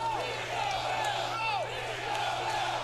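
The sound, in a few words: wrestling crowd chanting ring the bell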